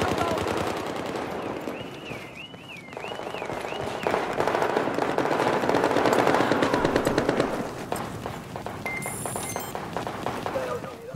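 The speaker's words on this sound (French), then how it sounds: "Je vois des tirs mais je les vois pas." Rapid automatic gunfire and scattered shots from the video game Battlefield 4, with in-game beeps, sustained over background game noise while a player talks.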